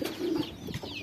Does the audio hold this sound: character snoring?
no